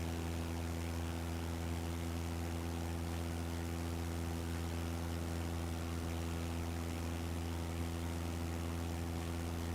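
Propeller aircraft engines droning in Microsoft Flight Simulator during a climb-out turn around an airfield: a constant, low, buzzing hum with steady harmonics, faint and unchanging, with no voices.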